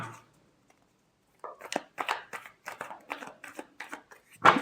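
Tarot cards are shuffled by hand in a quiet room, a run of about a dozen crisp riffling and slapping bursts in quick uneven rhythm, close and fairly soft, following a brief pause.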